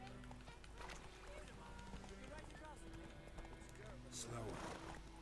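Horse hooves trot in The Witcher 3: Hearts of Stone, a steady clip-clop running under ongoing talk and background game sound, with a brief louder burst near the end.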